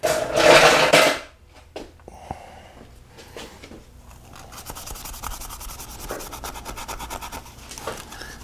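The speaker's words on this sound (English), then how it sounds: "We'll go ahead and grab one of our Scotch-Brite pads." Scotch-Brite pad scrubbing the exhaust manifold gasket surface on a 2008 Pontiac Grand Prix, starting with a loud close rustle, then quieter scrapes and a steady rapid rubbing rasp.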